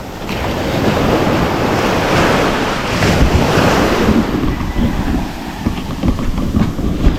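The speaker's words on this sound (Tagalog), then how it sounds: "Grabe, at kalakas pa talaga ng alon." Heavy ocean surf roars loudly and continuously, waves crashing and churning with strong wind noise buffeting the microphone.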